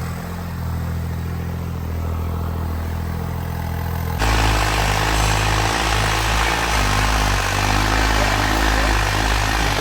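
Loud tractor diesel engine with its original turbocharger, idling with a steady throb, then revving up to a harder, rougher roar that holds steady.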